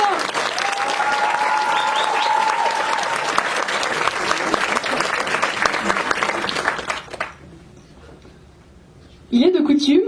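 Audience applause for the festival jury at a French film festival, dense sustained clapping from a crowd for about seven seconds, then it dies away and a voice begins speaking.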